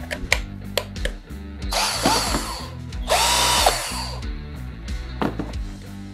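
A Xenon CDID707 corded concrete drill runs in short bursts, its whirring motor revving up and winding down twice with clicks and handling knocks between, close and loud, no talking.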